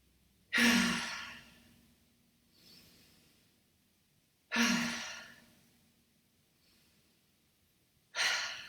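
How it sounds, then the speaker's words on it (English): Three slow release breaths exhaled during a basic yoga class, each a soft, airy sigh spaced about four seconds apart, close and quiet with no talking. "3 release breaths."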